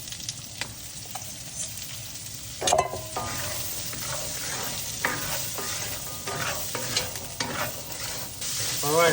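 Carrots sizzle in a hot wok while a utensil repeatedly scrapes and taps against the metal, making a steady close frying hiss with irregular stirring clatter.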